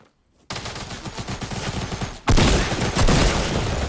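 Close, loud SMG fire in Fortnite, a long rapid stream of shots that breaks off briefly and then resumes even harder, with no talking over it.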